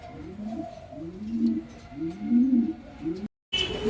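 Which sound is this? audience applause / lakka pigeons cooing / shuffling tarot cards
lakka pigeons cooing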